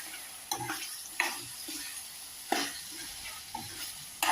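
Mutton liver is stirred as it fries in a pan, a low steady sizzle broken by a handful of distinct scraping stirs at irregular intervals, close up with no talk.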